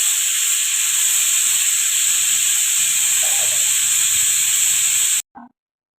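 A pressure cooker full of khichdi lets out its whistle as one loud, continuous, high steam hiss held for about five seconds, then it cuts off abruptly into silence after a faint trailing puff.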